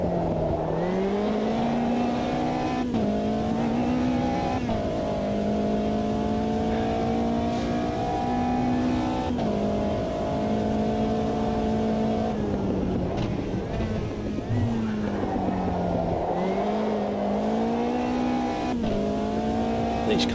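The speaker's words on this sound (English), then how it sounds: "These cars accelerate so nicely with the power they've got." Race car engine in a racing sim video game revving hard through repeated gear changes, each upshift dropping the pitch before it climbs again, loud and continuous with almost no talk.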